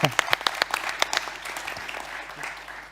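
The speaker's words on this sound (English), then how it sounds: "Should we give her a round of applause" Audience applause at a climate policy panel, sharp distinct claps at first that blur into a steady ripple and taper off, with faint voices beneath.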